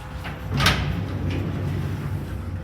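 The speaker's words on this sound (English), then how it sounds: "Doors closing." Lift doors in a shopping centre car park slide shut with a short rolling rumble and a soft thud, set against a low hum of machinery.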